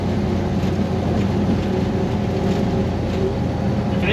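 A 1968 Plymouth Satellite engine pulls in third gear with a steady, loud, low rumbling drone that holds constant and close for the whole stretch, mixed with road and wind noise and no talk.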